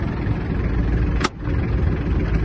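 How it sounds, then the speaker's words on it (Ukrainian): Iseki TG-253 Japanese mini tractor with its engine running loud and close as the tiller lifts, a steady low rumble broken by one brief sharp click midway. "Вимикаю цей режим і фреза піднімається"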